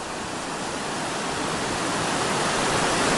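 The Whitewater River rushes along the Foothills Trail in a dense, unbroken roar of water, loud and close, slowly swelling over a few seconds.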